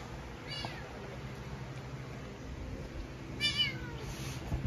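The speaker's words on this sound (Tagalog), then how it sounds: "Meow." A cat meows twice, a short call near the start and a longer, louder one toward the end, over a low steady background hum.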